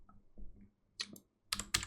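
A few sharp keystrokes on a computer keyboard entering shortcuts in Blender, quiet and close, with soft taps at first and then two crisp clacks near the end.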